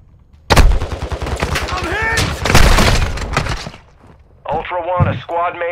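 Rapid gunfire bursts from Call of Duty: Warzone 2.0 DMZ gameplay, loud and dense at first, then fading into sharper, separated shots near the end, with voices talking over the combat.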